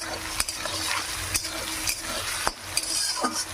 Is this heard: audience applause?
no